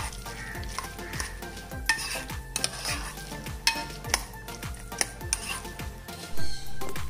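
Chicken momo filling mixed with a squeeze of lemon juice, a spoon scraping and clinking rhythmically against a bowl in repeated strokes, close and steady with a couple of louder knocks.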